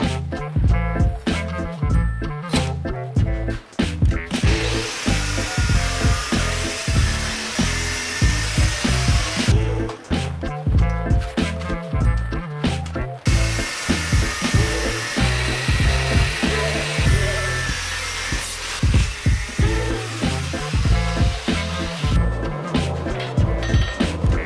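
Steel leaf spring being cut up to make a combat axe, a loud, harsh power-tool whine running almost continuously with choppy, rapid pulsing and brief dips in intensity.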